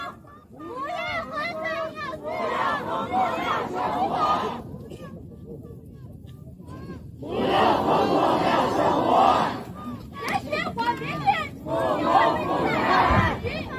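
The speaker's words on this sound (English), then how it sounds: "I know that in these protests, a lot of them are shouting things like down with the CCP, down with Xi Jinping." Massive crowd of protesters in China shouting in unison, waves of loud chanting and yelling rising and falling across the clip, with rhythmic bursts of many voices and a brief quieter lull in the middle.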